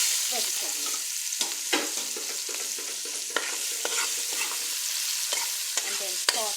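Vegetables sauté in hot oil for a curry coconut fish dish, giving a steady close sizzle with repeated sharp scrapes and clacks as they are stirred.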